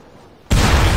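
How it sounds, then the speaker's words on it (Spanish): A rocket blast in the game Rust, bursting suddenly halfway through after a quiet lead-in and staying as a loud, heavy, sustained boom to the end. "A ver, le voy a echar un rocket."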